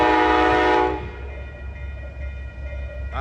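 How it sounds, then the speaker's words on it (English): An Amtrak Coast Starlight passenger train led by two P42 locomotives sounds a loud, sustained horn blast that cuts off, then the train rumbles steadily past nearby, with a fresh horn note starting at the end. "This train is going southbound to Los Angeles. Here it comes."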